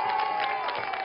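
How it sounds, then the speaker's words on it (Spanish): A crowd applauding professional musicians at a street protest at the foot of the Alhambra, a dense, steady roar of clapping and cheering, loud and close throughout. "¡Un aplauso!"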